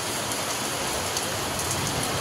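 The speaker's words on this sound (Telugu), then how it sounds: "చూడండి వర్షం ఎలా ఉందో, చెట్లు ఎలా ఊగుతున్నాయో. బాగా పడే వర్షం బాగా కురిసింది." Heavy rain pouring steadily outdoors, a dense continuous hiss of drops drumming on surfaces, loud and unbroken throughout.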